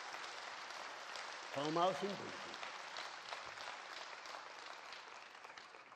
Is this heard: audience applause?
yes